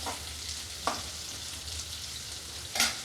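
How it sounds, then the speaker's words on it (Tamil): Three onions fry in oil in a pan until golden, giving a steady low sizzle at moderate volume, broken by a couple of brief spoon scrapes or stirring clatters. "மூணு வெங்காயம் நல்லா வந்து பொன்னிறமாக வதங்கட்டும்"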